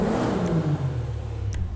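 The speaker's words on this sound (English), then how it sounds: "a turbo upgrade that makes the engine sound even more aggressive" A car engine in GTA, fitted with a turbo upgrade and race transmission, revs with a moderately loud, rising whir that drops back into a lower, steady drone.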